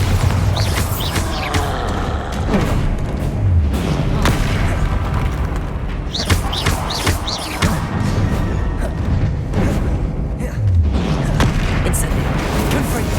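Repeated Bombarda blasting-spell explosions in the Hogwarts Legacy video game, loud booming bursts recurring every few seconds over a dense, continuous layer of game combat noise.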